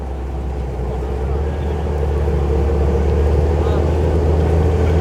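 A tractor pulls a reinforced KUHN Multi-Leader XT plough set 30 cm deep through a field in the Kyiv region, its steady low engine drone building slightly as it gathers speed, loud and close over wind.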